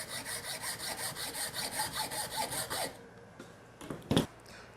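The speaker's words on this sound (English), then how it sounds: "Taking our hacksaw, laying it on the tape line edge, I want to follow that all the way through." A hacksaw cuts through a push pole along a taped line, making about a dozen quick, even back-and-forth rasping strokes up close before the sawing stops and a few light handling knocks follow.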